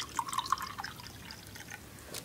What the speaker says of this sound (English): And then you pour some water,